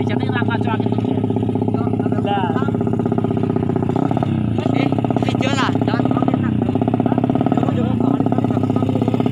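A motorcycle with a Thai-style FU front fairing on a hollow frame idles close by in a steady, loud drone, while someone talks over it throughout.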